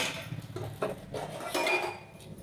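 Pressure cooker and dishes being washed by hand, with a steady run of clinks and clatters of metal pots and utensils close by, alongside running water and no talking.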